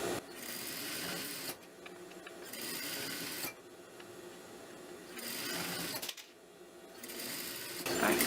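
A sewing machine stitches a fabric band for clochard trousers, whirring in several close bursts of rapid needle chatter separated by short pauses, including a brief backstitch.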